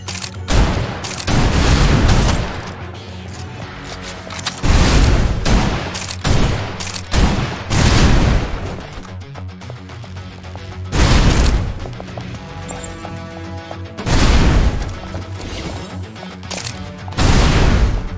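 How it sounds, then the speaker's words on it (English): Heavy suppressive gunfire in the shooter game Snowbreak: Containment Zone, with loud bursts of rapid automatic fire and booming impacts recurring in waves, separated by brief quieter gaps. "Suppressive fire."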